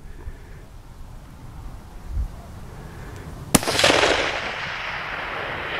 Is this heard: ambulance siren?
no